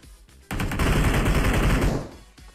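A loud, close burst of rapid automatic gunfire roars for about a second and a half in the PUBG Mobile game. Quieter game background sounds come before and after it.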